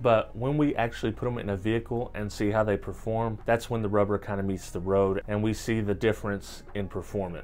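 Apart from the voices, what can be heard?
No everyday noises stand out.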